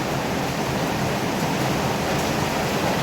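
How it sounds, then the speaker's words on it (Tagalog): Heavy typhoon rain pours down during a storm, a dense, loud, unbroken roar of falling water with no pauses or voices. "rumaragasa pa rin ng bagyo yung ulan hindi pa rin tumitigil"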